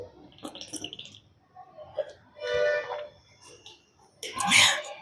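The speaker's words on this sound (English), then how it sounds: "sorry, I was drinking water." A person drinking water close by: gulps and swallowing sounds with a breathy exhale, moderately loud, between brief stretches of murmured speech.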